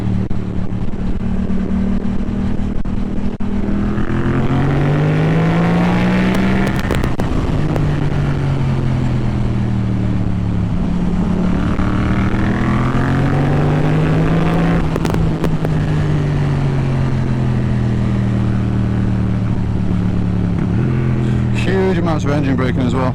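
A Yamaha MT-07 motorcycle engine drones loud and close, its pitch rising and falling with revving, downshifts to third and engine braking into corners, under steady wind roar.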